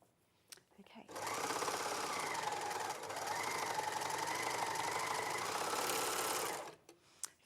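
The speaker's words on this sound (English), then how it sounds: "the overlocker does make such easy work of this" An overlocker stitches jersey fabric, with a fast, even mechanical whir and chatter running for about six seconds, loud and close, starting and stopping cleanly, with speech heard around it.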